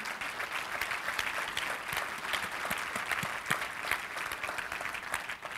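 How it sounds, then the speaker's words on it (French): A church congregation claps in encouragement during a service, a fairly soft but continuous round of applause with scattered distinct claps running throughout. "Est-ce qu'on peut juste donner une main d'acclamation pour les encourager?"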